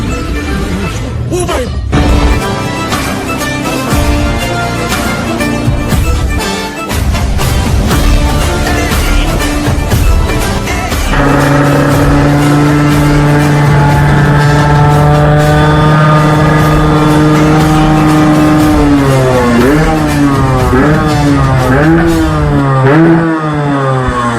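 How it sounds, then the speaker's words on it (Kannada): A 1998 Yamaha RXZ motorcycle engine, modified, revs loudly and close up in repeated rising and falling bursts, then holds a steady, buzzing idle-to-rev drone with wavering pitch. "ಇದೆ ಯಮಹಾ RXZ. ಇದು 98 ಗಾಡಿ."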